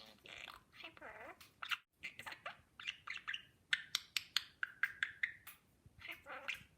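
A pet budgie chatters close by in rapid, scratchy chirps and warbles, coming in quick bursts with short pauses.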